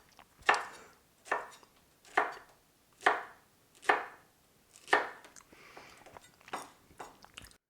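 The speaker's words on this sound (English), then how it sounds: "What we now want to do is cut this into small chunks." Sharp knife chopping pineapple into small chunks on a cutting board, about ten crisp, evenly spaced chops that quicken toward the end, close and clear with no talking.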